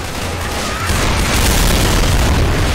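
A pipe bomb explodes in the Left 4 Dead 2 video game as a loud, sustained booming roar that fills the whole moment and swells slightly partway through.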